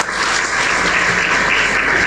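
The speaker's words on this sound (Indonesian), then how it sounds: "Kita tepuk tangan sekali lagi." A church congregation applauds during an online worship service, dense sustained clapping from many hands filling the room at close range with no talk over it.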